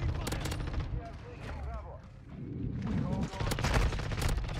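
Fennec 45 SMG gunfire in a Modern Warfare II match comes in rapid close bursts, with a quieter gap midway and a dense final stretch of shots, with a player's voice in between.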